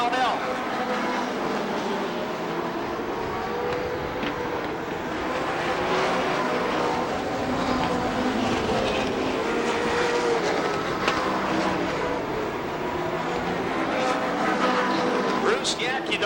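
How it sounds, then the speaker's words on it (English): Race cars on an oval at Rockford Speedway during the 1992 ARTGO 300 produce a continuous loud engine roar throughout, with a race announcer talking over the noise. "Holzhausen in the Baker Enterprises 78 car, looking inside the 69 of Bob Brownell."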